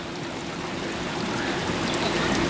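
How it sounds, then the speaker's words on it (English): Rainwater floods down in a torrent right behind a camper at a rainy Hamvention 2022, a steady, loud, close rushing wash that builds slightly and never lets up. "This is right behind my camper, and the water's just flooding down"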